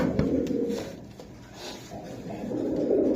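Kasuri pigeons coo in soft, low, rolling calls at close range, several overlapping phrases repeating throughout with faint rustling and no talk.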